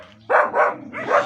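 A household dog barks three times in quick succession, close and loud, at a rural provincial house.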